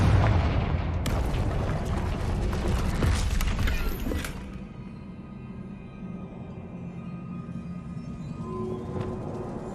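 Confringo fire spell exploding in Hogwarts Legacy, a loud blast with scattering debris for about four seconds, then fading to a quieter rumbling ambience.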